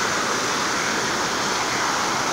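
Moose Falls on Crawfish Creek in Yellowstone roars in a steady, dense broadband rush of falling water, loud and close, with no break and no voices.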